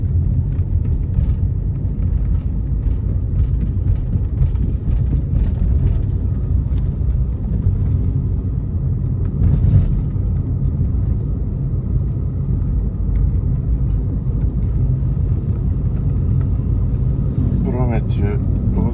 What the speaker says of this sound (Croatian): vozimo se ulicama Saigona u taksiju